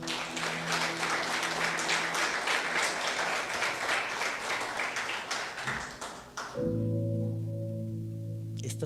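A church congregation breaks into loud, sustained applause that fills the room for several seconds, then fades as a held, steady musical tone takes over.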